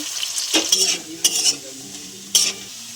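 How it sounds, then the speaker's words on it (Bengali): Potatoes frying in oil with a dried red chilli, cardamom and cinnamon, sizzling under a few distinct spatula scrapes and clinks against the pot, three clear stirring strokes over a quiet steady hiss. "আলুগুলো দিয়ে দিলাম। আলুটা একটু ভেজে নেব।"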